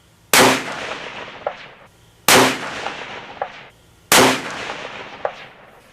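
Three loud .223 rifle shots fired at a target outdoors, evenly spaced about two seconds apart, each a sharp crack trailing off into a long echoing decay, with a faint metallic clink partway through each tail.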